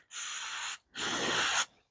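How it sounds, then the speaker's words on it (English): Brake cleaner sprayed from an aerosol can onto the moving parts of a BMW R1150 motorcycle starter motor held upside down over a plastic bowl: two close, steady hissing bursts with a short pause between them. "spray the brake cleaner on all the moving parts"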